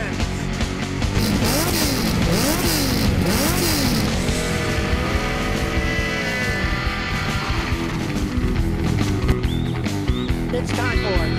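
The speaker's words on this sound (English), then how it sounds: "Rev up your engines!" Loud engines rev and whine with rising and falling pitch sweeps, heard under and between an excited voice.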